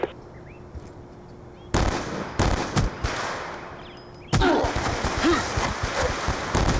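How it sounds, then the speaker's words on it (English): Explosive blasts and rumbling impacts from a Hellstorm missile strike in the video game Black Ops II, with two loud bursts breaking through steady battle noise and faint chatter underneath. "Hellstorm missile"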